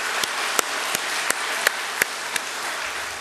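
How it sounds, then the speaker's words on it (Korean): A church congregation applauds the choir during a Sunday worship service, a soft, even patter of clapping with a few sharper individual claps standing out, fairly distant and without voices. "우리 찬양대를 위해서 박수 한번 합시다."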